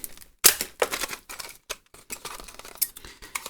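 Scissors snip through the plastic packaging of a replacement DW drum pedal hinge, a quick run of close, crisp cuts and crinkles.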